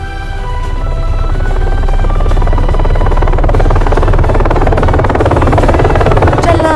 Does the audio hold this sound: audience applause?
no